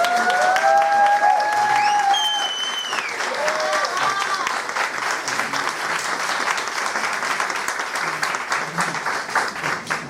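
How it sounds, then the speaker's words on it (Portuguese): Audience applause at an inaugural university institute lecture, sustained clapping from a full room lasting the whole span, with a few voices speaking over the start. "Então vou começar pedindo a salva de palmas para a aluna Joyce Pinheiro"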